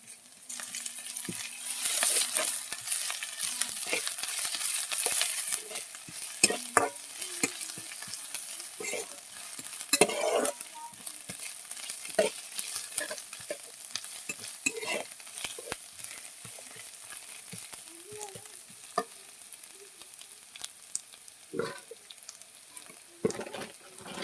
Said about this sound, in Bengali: লাল লাল করে পেঁয়াজটা ভেজে নেব।